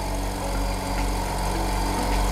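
Air compressor running steadily for an automatic air-flow egg incubator's hatcher machines, a continuous low mechanical hum and drone held at an even, fairly loud level throughout, with no talk.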